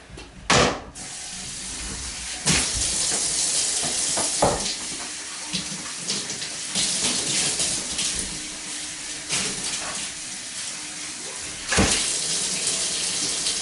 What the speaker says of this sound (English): Then we wash the lid.